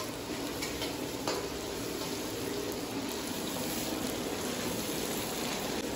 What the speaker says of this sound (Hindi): टमाटर और शिमला मिर्च, तो इनको पका लेते हैं।